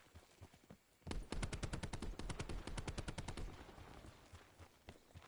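Auger DMR semi-automatic tactical rifle firing in Call of Duty Black Ops 4, a rapid string of loud, closely spaced shots lasting over two seconds, then quieter game ambience.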